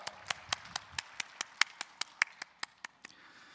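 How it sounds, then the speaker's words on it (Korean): Applause during a church worship service: a run of crisp, evenly spaced claps, about fifteen in quick succession, fairly close and clear against a quiet room with no talking. "하나님께 영광의 박수 올리겠습니다."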